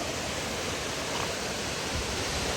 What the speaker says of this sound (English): That's a really cool waterfall